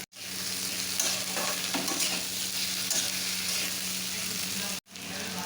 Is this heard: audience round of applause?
no